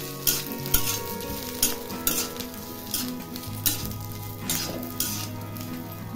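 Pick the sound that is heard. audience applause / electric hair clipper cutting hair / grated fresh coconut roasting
grated fresh coconut roasting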